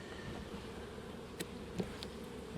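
Honey bees buzz steadily from an open, strong hive during a varroa inspection at Coramba, a soft continuous hum with a few brief louder ticks and knocks from handling.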